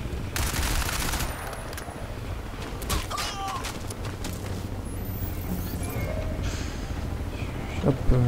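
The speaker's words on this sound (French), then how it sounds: "Les murs se dégradent quand vous tirez dessus." Gunfire in the shooter game Crysis 2 rattles in steady bursts of sharp cracks striking and chipping walls, loud and continuous throughout with a busy background of impacts and debris.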